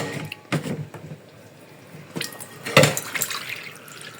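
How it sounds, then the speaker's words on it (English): Water poured into a pot of blended pepper stew with meat, a few soft splashing pours and drips, the strongest near the end, close by and fairly quiet in a still kitchen. "So I'm going to add my meat and then add a little water."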